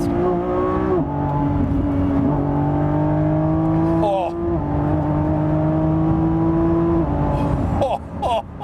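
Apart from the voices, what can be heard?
Lamborghini Revuelto accelerating onto the freeway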